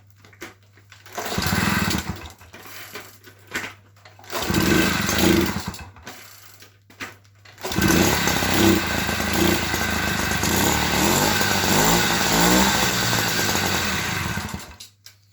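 Small petrol engine being started after its ignition timing was set, a couple of short sputtering cranking bursts followed by a loud, steady, close buzzing idle that runs on to the end, with a low hum underneath.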